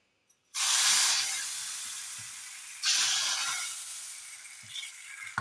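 Liquid is poured into a hot pan of spluttering tempering for okra tamarind curry with a sudden loud sizzle that slowly fades, then a second pour brings another burst of hissing.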